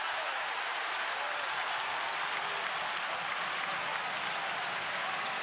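A basketball arena crowd at Purdue vs Michigan roars and applauds in a dense, steady, loud wash with no breaks.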